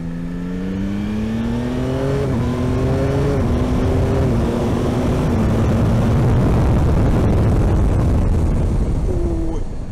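Yamaha Tracer 9 GT motorcycle with the new CP3 three-cylinder engine, ridden on the road and still being broken in, revving up through several gear changes with stepped pitch climbs, then settling into steady wind-blown cruising noise, loud and close.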